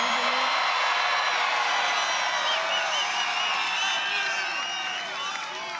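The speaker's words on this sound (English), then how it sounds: "Do you hear that crowd back there?" A huge political rally crowd in Texas cheers in a dense, continuous roar of many voices, whoops and scattered clapping, steady and loud throughout.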